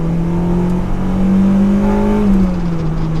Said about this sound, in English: let's do a little VTEC pull